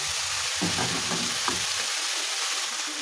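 Beef stew sizzles and fries loudly in a pot over reduced flame, with a continuous crackling hiss and a few scraping stirs near the start.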